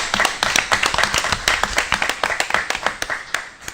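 A small crowd at a board of education meeting claps steadily, sharp close hand claps in a dense, even rhythm that holds for several seconds.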